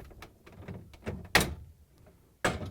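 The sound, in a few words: lifting LG/Kenmore refrigerator freezer door off rails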